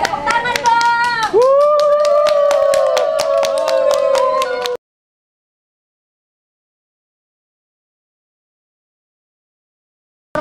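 A few people clap sharply and quickly in a home family game setting, under a cheerful voice and a sustained sung or shouted tone, for about five seconds before cutting to silence.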